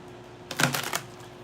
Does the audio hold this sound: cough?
no